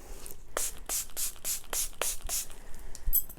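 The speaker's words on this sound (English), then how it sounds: "so I'll just spray some water on it." A handheld spray bottle misting water during an eyebrow and eyelash tinting session, about seven crisp, evenly spaced hissing spritzes in quick succession, close and clear in a quiet room.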